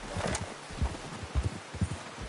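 A horse in Red Dead Redemption 2 moving over rustling ground, its hooves clopping in a quick uneven rhythm, close and moderately loud, with no voices.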